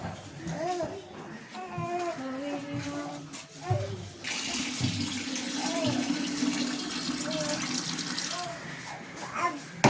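Steady rush of water running from a tap fills most of the clip, with a voice chattering over it before and during the flow.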